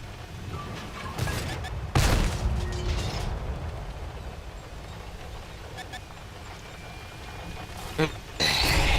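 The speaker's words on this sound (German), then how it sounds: "der schießt mal mein Haus kaputt hier" Video game gunfire hits a house, with sharp loud shot bursts near two seconds and again near eight seconds over game ambience and mechanical clatter, while someone talks in German.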